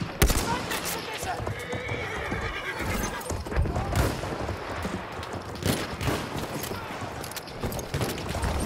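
A horse whinnies loudly amid a busy video game soundscape on the Suez map, with clopping hooves and scattered gunfire, and voices talking over the action.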